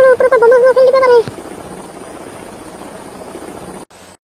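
A cartoon helicopter roars overhead as a steady, loud rotor rumble after a brief tonal voice-like cry, then cuts off abruptly.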